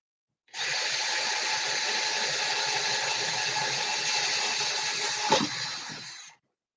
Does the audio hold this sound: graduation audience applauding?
no